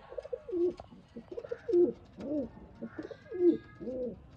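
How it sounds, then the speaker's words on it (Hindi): Sialkoti pigeons cooing nearby in repeated soft, throaty phrases, about three rounds of low rolling calls with brief pauses between them. "ये प्योर हालत का कबूतर भाइयों की स्क्रीन पे मौजूद"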